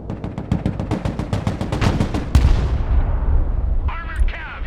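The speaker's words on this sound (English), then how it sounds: "let's just drop some artillery here" Artillery in the video game Broken Arrow fires in a rapid rolling barrage of loud booms, ending in one heavy blast whose rumble decays, followed by a brief whistling effect.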